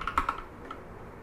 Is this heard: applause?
no